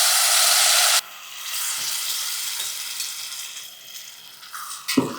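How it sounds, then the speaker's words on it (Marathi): Tempering of turmeric, goda masala and red chilli hits hot oil with a loud, dense sizzle that cuts off abruptly after a second, leaving a quieter frying hiss and a sharp clatter near the end. "काय खमंग फोडणी बसली"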